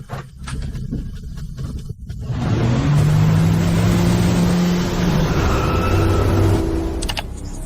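A boat engine runs at sea, surging from a quieter start into a loud, steady droning roar that holds for several seconds before easing slightly near the end, with no one talking.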